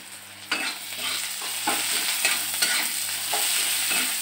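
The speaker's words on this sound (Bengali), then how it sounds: "দিয়ে ভালো করে নাড়িয়ে ছাড়িয়ে দিলাম।" Chopped onion and green chili sizzle steadily in a hot pan with salt, a utensil scraping and stirring them in repeated strokes; loud, close and continuous, with no talking.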